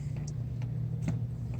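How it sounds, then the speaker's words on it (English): A 1965 Ford Mustang's 289 V8 engine idles with a low, steady hum, broken by a few faint clicks and ticks. "Motor starts and runs."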